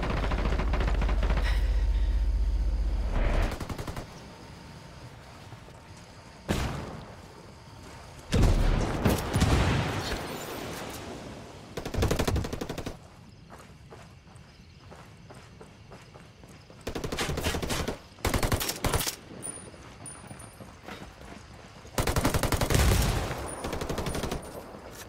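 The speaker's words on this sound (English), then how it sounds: "Taking heavy fire. Hostiles are going loud." Heavy gunfire from hostile enemies in the tactical shooter Ghost Recon Wildlands, coming in repeated loud bursts and volleys separated by quieter gaps over a steady game ambience, with no voices.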